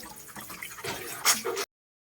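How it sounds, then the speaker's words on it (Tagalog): Tap water running over drained cooked macaroni for carbonara, a short splashing, dripping stream of under two seconds that stops abruptly. "Pwede nyo siyang padaluyin ng tubig ng galing sa gripo katulad ng gagawin ko."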